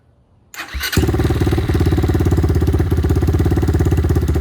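An X-Pro Templar 250 motorcycle with a freshly cleaned carburetor and Nibbi 30mm PE carb cranks briefly, then catches and settles into a loud, steady, slightly high idle with a rapid even putter, close up and with no voices.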